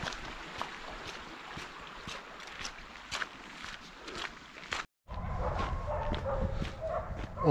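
Dogs bark repeatedly in the distance from a dog shelter beside a hiking trail on the Rheinsteig near Koblenz, sharp intermittent yaps over outdoor ambience, followed by louder rustling close by.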